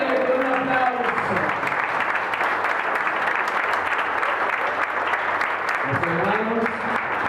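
A church congregation applauds steadily through a missionary worship service, the clapping continuous and dense, with a voice speaking over it at the start and again near the end.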